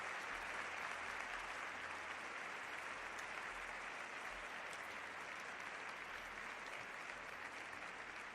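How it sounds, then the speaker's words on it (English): Sustained applause from a stadium crowd at a J.League match between Kyoto Sanga and Hokkaido Consadole Sapporo, clapping for injured player Kazuki Tanaka; a steady, dense wash of distant clapping that holds evenly throughout. "Warm ovation for Kazuki Tanaka."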